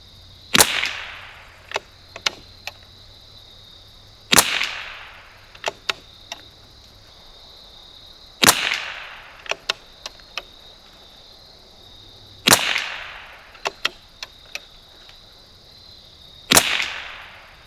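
Five sharp rifle shots from a 1972 Anschutz Model 54 Match firing SK Pistol Match Special ammunition crack out at regular intervals of about four seconds, each a crisp, loud report followed by a few quieter clicks of the bolt being worked.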